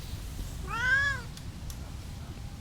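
A house cat meows once at the door, a single drawn-out, rising-then-falling cry that stands alone and fairly close over a low background rumble.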